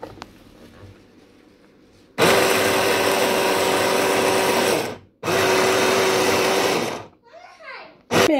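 A food processor whirs loudly and steadily, chopping parsley for pan kebab in a home kitchen. It runs about three seconds, pauses briefly, then runs again for about two seconds before a clatter, with faint talk beforehand.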